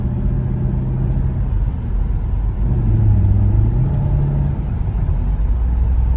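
A Mercedes SL500 driving, heard as a steady, loud low road rumble and engine drone that stays even throughout with no voices.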